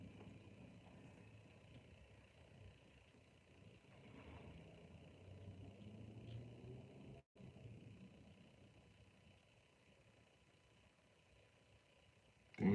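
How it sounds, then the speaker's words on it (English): A steady low engine rumble with a mechanical whine from a Toyota car with a failing transmission, idling or cruising nearby, with a brief dropout and a sharp burst at the end. "I can hear your transmission from down the street."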